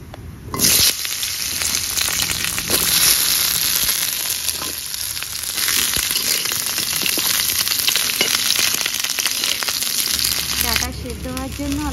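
Mustard seeds sizzle and crackle in hot oil for the Bengali dish lal datar sorse bata, a steady, loud frying hiss throughout, with a voice talking over it at times.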